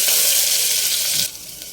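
A loud, steady sizzle of ground chili-garlic paste hitting hot oil close by, dropping to a quieter hiss after a second.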